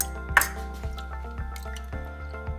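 Water pours from a Maxton dehumidifier bucket in a series of soft splashes and drips, with a sharper splash near the start and a steady liquid trickle underneath, close and fairly quiet.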